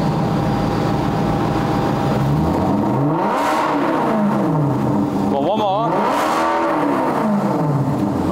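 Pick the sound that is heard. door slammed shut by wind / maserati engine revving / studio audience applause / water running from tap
maserati engine revving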